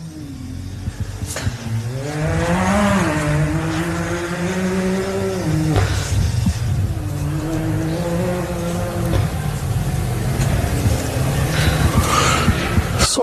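Off-road race cars lap the Loveday 400 course at LoveDay 4x4 Adventure Park, engines revving and rising in pitch as they pass, loud and continuous, with tyre squeal, several cars coming through one after another.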